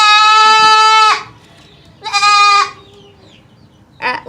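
Two young male goats on a farm give loud, close, harmonic bleats: a long cry, a second one after a pause, then the start of a third.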